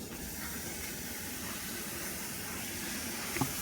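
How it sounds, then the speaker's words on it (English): Two pounds of hamburger sizzle in a can cooker over high heat on a Coleman stove, giving a steady, even broadband hiss with a faint crackle near the end. "Gotta love that sizzle."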